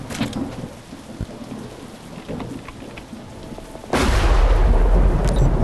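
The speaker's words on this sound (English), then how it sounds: "Thunder!" Thunder in the Animal Company video game, a loud sudden rumble and crash breaking in over steady rain after quieter background sound, with no talking.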